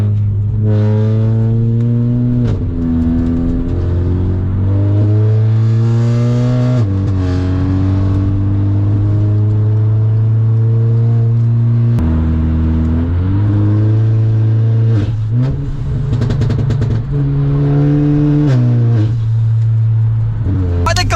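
A Volkswagen Scirocco accelerates hard onto a motorway from inside the cabin, its engine note climbing loudly through several gears with drops at each shift and occasional pops.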